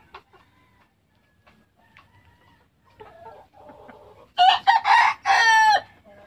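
A White Boston Roundhead gamefowl rooster crows loudly and close, with harmonic calls dominating the end, after a quieter stretch of soft clucking and low background noise.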